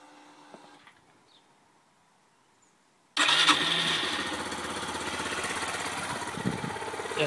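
A Yamaha YBR125 motorcycle engine, fresh after an oil change, cranks and catches abruptly after a quiet stretch, then settles into a steady, close, putting idle.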